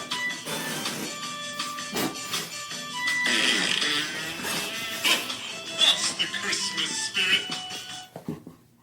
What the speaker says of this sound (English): Can I get a fart sound?